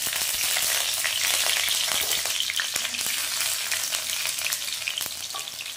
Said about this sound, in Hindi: तो इसको हम लहसुन को हम तेल में डालेंगे।